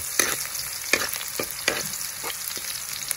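Garlic fries in a small pan with oil, crackling steadily and close, broken by several scraping stirs of a spatula.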